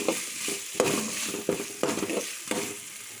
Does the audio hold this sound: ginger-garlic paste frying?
yes